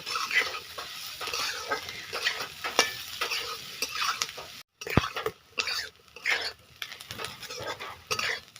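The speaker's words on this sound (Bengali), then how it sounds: "লাল লাল করে পেঁয়াজগুলোকে ভেজে নেব।" Chopped onions, cumin and green chili frying in hot oil, a steady sizzle with intermittent stirring and the clink of a utensil against the pan, close and moderately loud, one brief gap midway.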